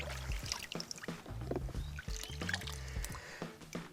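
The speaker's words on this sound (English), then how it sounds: "We wash these parts out in water." Parts of a rainwater first flush device, including a filter and rubber fittings, are washed by hand in water, giving irregular sloshing, splashing and knocking at a low, quiet level.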